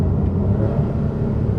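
A Porsche 911 with a newly replaced flex disc drives along with a steady, loud low engine and road rumble, no clunk audible as it shifts smoothly.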